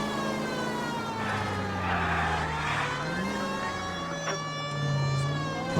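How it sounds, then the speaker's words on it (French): Police car siren in the L.A. Noire video game, a steady wailing tone that rises and falls over a continuous engine drone, loud and close throughout. "Il y a la sirène, j'arrive à pleine balle"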